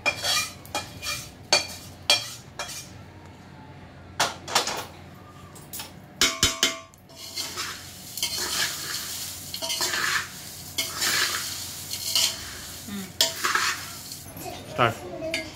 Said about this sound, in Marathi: आता आपण ही जी फोडणी आहे ती अलगद याच्यामध्ये ओतायची सगळीकडे आणि नंतर हे मिश्रण मिक्स करून घ्यायचं आहे